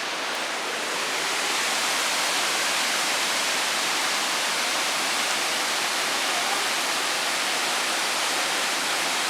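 The 54 m Suvcharskoto praskalo waterfall in Stara Planina roars as a dense, continuous, even rush of falling water, loud and close, with no voices.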